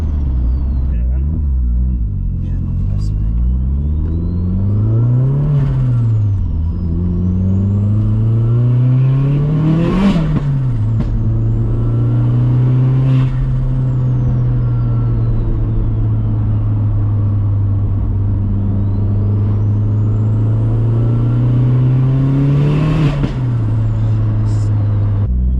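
A modified 552bhp Vauxhall Astra VXR drives steadily along a dual carriageway, its loud engine drone rising and falling through gear changes and bursts of acceleration, with occasional sharp pops, heard from inside the car while people talk.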